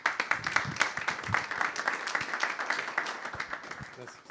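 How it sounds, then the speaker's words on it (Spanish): Audience applause at an environmental noise seminar, a dense patter of clapping from a room full of people that carries on steadily throughout with a few voices mixed in. "Le damos un fuerte aplauso a Camilo para que pase adelante."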